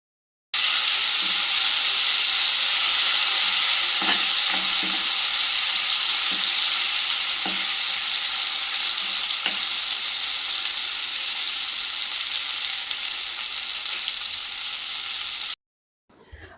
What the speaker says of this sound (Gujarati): પછી તેમાં થોડી હિંગ નાખીને બધાને બરાબર સાંતળી લેશું.